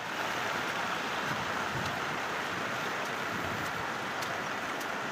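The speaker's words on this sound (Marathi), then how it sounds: "या पाण्याचा प्रवाह या ठिकाणी आपल्याला बघायला मिळतो" Stream water rushes steadily into a lake, a dense, continuous outdoor flowing roar with no break.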